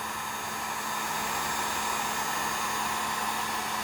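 A heat gun blows steadily while heating the rubber of a typewriter platen during rewrapping, a constant close hiss of rushing air with no pauses or talk.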